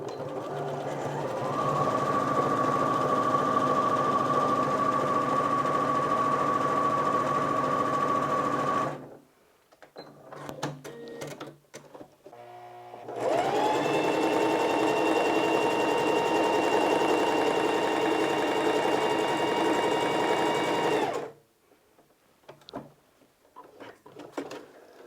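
Sewing machine stitching fabric, likely a B38 model, running in two long steady whirring bursts separated by pauses with light handling clicks, close and continuous.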